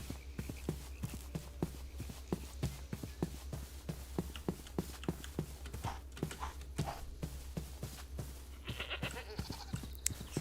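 Goats bleat in the video game TerraFirmaCraft amid a steady run of soft clip-clop footsteps over a constant low background hum, with the calls faint and mixed into the game ambience.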